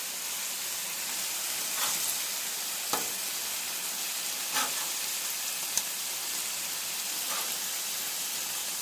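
Wild pork and deer smash burgers sizzle steadily on a hot grill after being flipped, a constant close hiss with a few sharp pops and spatula taps.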